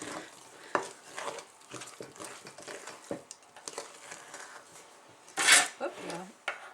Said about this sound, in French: Voilà, maintenant on remue, il faut bien incorporer tout ça.